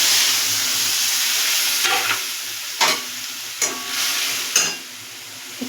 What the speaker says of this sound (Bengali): আমাদের তেল গরম হয়ে গেছে, এবার আমি এই পেস্ট করা মশলাটা দিয়ে দেবো।